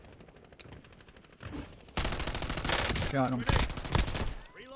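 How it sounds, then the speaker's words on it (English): Rapid automatic gunfire from a video game shooter crackles in bursts, loud and dense through the second half, with players talking over it. "Someone's shooting at us."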